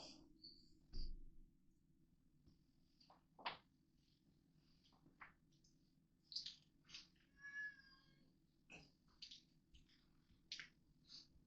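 A cat meows repeatedly in a kitchen while pepper jack cheese is being cut for a cheeseburger dip, the short calls fairly close and mixed with light clicks and knife taps.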